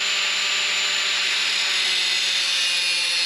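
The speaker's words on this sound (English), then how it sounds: "we only need to cut a bit of this bolt because it's just too long" An overlong steel bolt being cut off during MX5 front suspension work, a loud continuous grinding whine with a high metallic edge, steady and close throughout with no pauses.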